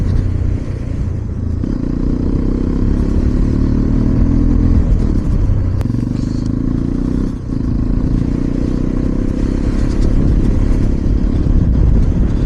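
A Hero Xpulse 210 motorcycle rides off-road, its engine rumbling steadily with clattering and scraping from the rough ground, loud and close with brief surges in throttle.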